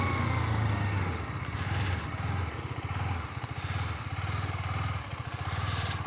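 A KTM Duke 250 BS6 motorcycle engine drones loud and close throughout while riding in second gear, with a steady throbbing pulse that dips slightly and builds again under acceleration.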